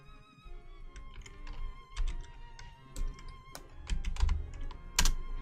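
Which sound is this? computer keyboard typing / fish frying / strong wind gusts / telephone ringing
computer keyboard typing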